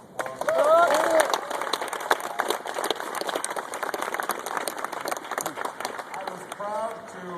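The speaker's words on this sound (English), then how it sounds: "Give her a big round of applause." An audience at a wounded warrior event at the White House gives Tammy Duckworth a round of applause: scattered claps rise to a burst, then thin out while voices talk over them.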